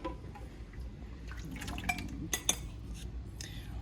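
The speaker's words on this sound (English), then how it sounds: "Now pour your butter in there" Two sticks of melted butter pour into a mixing bowl while making chocolate chip cookie dough, giving a faint liquid trickle with a few soft drips and light clinks near the middle.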